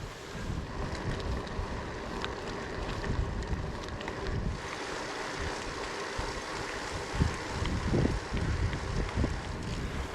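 Wind buffets the microphone while cycling along a dike in Denmark, a continuous rough roar with gusty swells and low thumps, loud and close throughout with no talking.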